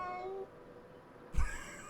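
A cat meows in World of Warcraft, heard as a short, clear meow over a low in-game background, followed by a brief thump.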